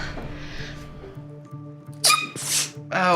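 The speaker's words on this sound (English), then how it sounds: "Sneezing has got to stop." A soft, muffled sneeze followed by a couple of sharper, breathy bursts close to the microphone, with a voice-like tone underneath.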